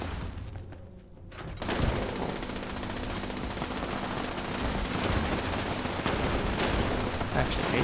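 A Gauss shotgun in Fallout 76 fires in fast, heavy repeated blasts, loud and close, forming a dense barrage after a brief quieter moment, with a voice talking over the gunfire.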